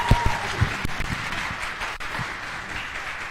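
An audience at a closing ceremony claps, a broad wash of applause with a few sharper individual claps near the start, steady and moderately loud.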